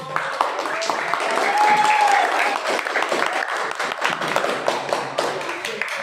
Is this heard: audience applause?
yes